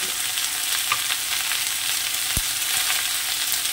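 Vegetables with shrimp, pumpkin, potato, drumstick stalks and jackfruit seeds sizzle steadily in a pan, a continuous close frying hiss with a few soft scrapes and knocks of stirring and no talk.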